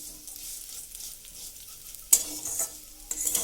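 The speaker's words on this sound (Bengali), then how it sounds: "এবার সেমাইটাকে দিয়ে আমি সমানে নাড়াচাড়া করব, যাতে পুড়ে না যায়।" Vermicelli (semai) stirred and fried in oil, a steady soft sizzle with louder scraping bursts of the utensil partway through and again near the end.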